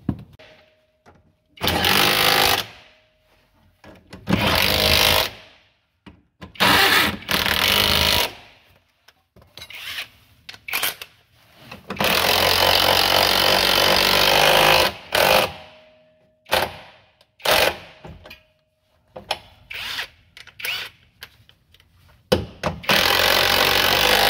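Bolts being loosened and fitted on the leaf spring of a Fiat Uno using a power tool, heard as repeated loud close bursts of rattling impact drilling separated by short pauses, with no talk.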